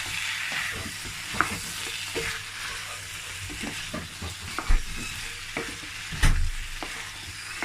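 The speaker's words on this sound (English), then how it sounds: "I'm gonna mix everything together" Ingredients are stirred together in a hot cooking pan: a spoon scrapes and knocks repeatedly over a soft continuous sizzle, with a couple of louder clatters, close and with no talking.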